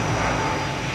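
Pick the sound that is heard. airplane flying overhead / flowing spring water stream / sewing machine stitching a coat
airplane flying overhead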